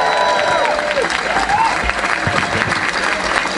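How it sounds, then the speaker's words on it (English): A stand-up comedy gig audience applauds and cheers loudly to welcome a comedian to the stage, a dense steady roar of clapping with crowd noise throughout. "Big round of applause, my friends."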